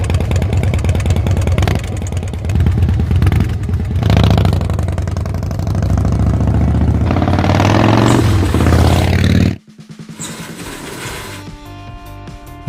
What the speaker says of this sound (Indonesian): mesin V-Twin-nya Moge Harley Davidson yang khas sekali dengan suara gemuruh yang dihasilkan